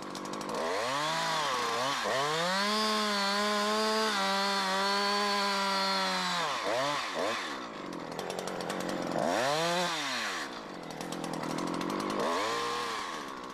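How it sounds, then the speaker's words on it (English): A Husqvarna chainsaw finishes a directional notch in a tree trunk from the other side, its engine roaring loudly while cutting, then dropping and revving up again in repeated rising and falling swells. "you have to complete the directional notch from the other side"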